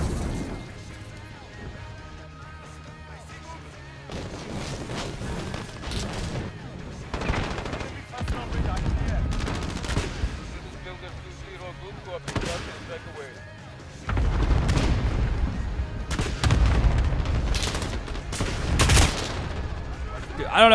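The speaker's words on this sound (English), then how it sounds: "I have cluster strike again." Rapid explosive blasts from a cluster strike in Call of Duty: Modern Warfare, loud bursting clusters around 7–10 s and again from 14 s onward, mixed with gunfire and battlefield noise while a person talks over it.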